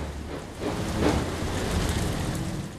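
Steady rain falls heavily in the Ship Simulator game, a continuous dense hiss that swells slightly midway, with a low distant rumble beneath it.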